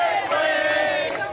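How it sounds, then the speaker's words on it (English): A dense crowd of Venezuelan exiles near Miami chants loudly in unison out in the street, voices blending into a sustained roar with no pause. "near Miami, Venezuelan exiles chant, "He's gone, he's gone.""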